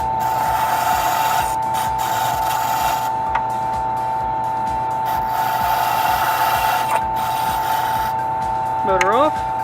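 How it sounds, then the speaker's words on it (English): A key duplicating machine's motor-driven deburring brush scrubs metal shavings off a freshly cut key, a steady whirring hum with a constant tone and gritty rubbing texture running throughout, near and loud, ending in a brief falling whine as it spins down. "now we just need to use the deburring brush to get any metal shavings off"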